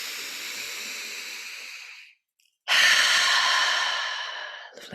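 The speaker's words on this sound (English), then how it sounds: "let's take a deep breath in." A person takes a deep breath in during a meditation practice: a long, close, airy inhalation, a brief pause, then a second strong breath fading gradually, with no speech.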